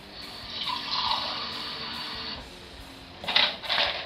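Water poured over macaroni in a bowl for microwave cooking, a steady soft trickling stream that swells louder in two late splashes.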